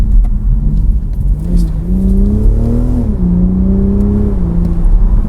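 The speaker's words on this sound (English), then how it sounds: "a B58 engine does sound good, but in this it's got all the cackles and overrun built in" A BMW Z4 M40i with its B58 engine revs up and settles, a steady rising and falling engine note heard close and loud from inside, with no talking over it.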